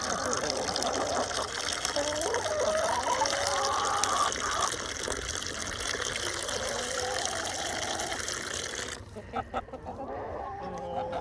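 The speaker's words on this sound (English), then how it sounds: "this is the piping hot tap water" Continuous rushing of hot tap water pouring, with faint clucking of chickens and some voices in the background; the flow cuts off near the end.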